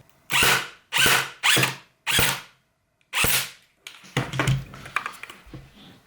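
An airsoft AEP electric gun fires test shots through its barrel, with five sharp, close bursts, each a brief motor whir and shot, followed by softer clicking and handling noises.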